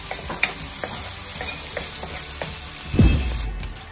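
Bacon from SM Pure Foods frying in a pan until crunchy, a steady close sizzle with occasional pops and a louder burst of crackling near the end, no talking.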